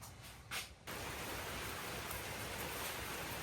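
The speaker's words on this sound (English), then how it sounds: "you can see that the rain's moved in on us" Steady rain falling outdoors, a dense even hiss that holds loud and continuous, with a brief lull near the start before the downpour settles in.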